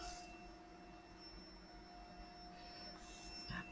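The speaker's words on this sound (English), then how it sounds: "it's my fault that I set the vacuum cleaner off" Somewhere upstairs in a house, a robot vacuum cleaner runs with a faint, steady motor whine and a soft hum underneath, continuous and distant, with nobody talking.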